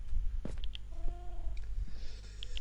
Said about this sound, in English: I found a kitten.